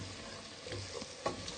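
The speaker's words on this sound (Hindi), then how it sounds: "1-2 मिनट हम इसको भूनेंगे।" Mixed vegetables stirred and fried in a pan, a soft steady sizzle with a few scraping spoon strokes, close and quiet.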